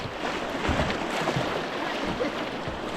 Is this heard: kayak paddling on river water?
yes